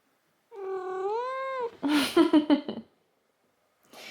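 A cat lets out one long, drawn-out meow, then a quick series of chirpy, trilling calls, close and clear, followed by silence and a brief rustle.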